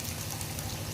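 Ridge gourd dropped into hot oil, giving a dense, steady sizzle like heavy rain, close and continuous for a moment with no talking.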